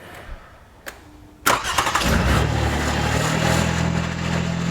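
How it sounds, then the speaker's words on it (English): A Toyota engine with a newly replaced starter is cranked after a couple of soft clicks, catches quickly and settles into a steady, even idle, heard up close with no voices. "Start it again."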